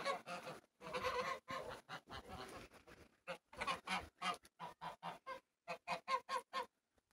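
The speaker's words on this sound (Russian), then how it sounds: "Гуси сегодня ходят, волнуются." Agitated geese honk in a farmyard garden, loud nasal calls tumbling in quick, uneven bursts that turn into a rapid run of separate honks, close by with no talking.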